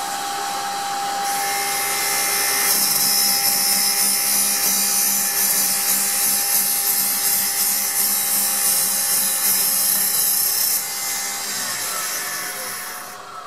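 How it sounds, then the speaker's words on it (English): A Buehler Isomet 2000 precision saw cuts through a sample, giving a steady, loud high-pitched whine with a constant hum underneath that holds for about ten seconds and then eases off. "Machine will stop automatically once it's cut the sample."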